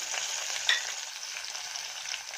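Chopped onion fries in hot oil with mustard seeds and curry leaves, a continuous close, even sizzle with light crackle and one small pop, steady and without voices.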